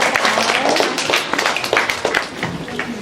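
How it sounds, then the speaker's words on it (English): A student council audience bursts into scattered applause and finger snaps, a dense, lively patter of claps with no talk over it. "Let's give them some snaps and claps and kudos for all the work that they put into this."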